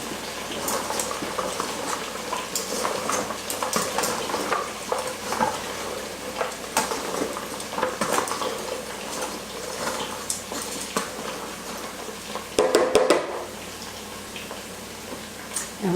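Food frying in a pan, a steady loud sizzle and crackle that runs the whole time with occasional stirring and a clank of cookware near the end, no voices.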